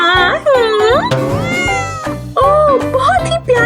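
A cat meows repeatedly in clear, close, tonal cries, several drawn-out calls rising and falling, with a person's voice mixed in between them.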